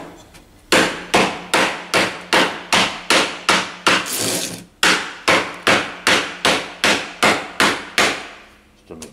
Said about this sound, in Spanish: Y ahora a golpear un poco. Cualquier madera sirve.